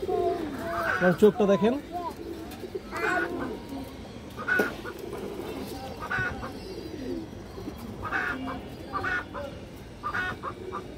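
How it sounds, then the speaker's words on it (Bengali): Domestic pigeons coo softly in the background while someone talks over them, close and continuous. "এই যে দেখেন আপনার কবুতরের শেপটা দেখেন, অসাধারণ একটা কবুতর দর্শক।"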